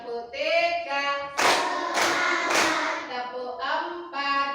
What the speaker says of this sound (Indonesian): ayo kita sekarang tepuk fokus dulu ya